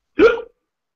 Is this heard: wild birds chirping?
no